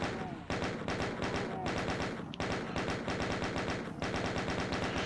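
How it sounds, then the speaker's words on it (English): Rapid, steady chain gun fire in DOOM, aimed at explosive barrels in the Waste Abandonment map, rattles continuously for about five seconds with only brief gaps between bursts. "Do want to pick up that chain gun too. It'll certainly help with the barrels down there."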